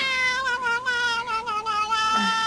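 A cat lets out one long, drawn-out yowl, wavering in pitch and close by, ending with a lower moaning note.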